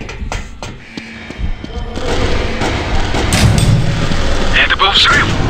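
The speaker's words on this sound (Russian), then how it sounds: "Это был взрыв." In the video game The Suffering: Ties That Bind, an explosion bursts with a heavy boom and crackling debris, followed by a loud rumbling aftermath with scattered sharp cracks.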